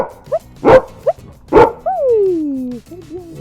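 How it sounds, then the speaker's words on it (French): An assistance dog barks on command: two short sharp barks in close succession, then a drawn-out descending whine and a small trailing whimper, close and loud with no talk. "c'est faire aboyer le chien sur demande."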